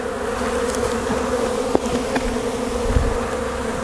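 A swarm of bees at a hive entrance hums in a dense, steady drone close by, with a few individual buzzes passing through.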